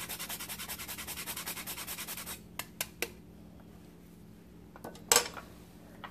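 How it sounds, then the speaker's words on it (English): Nutmeg being ground by hand into a sweet potato casserole: a steady, rhythmic rasping scrape for about two seconds, followed by a few light clicks and a brief knock, all close and fairly quiet. "I'm going to grind in about 1/4 teaspoon of nutmeg."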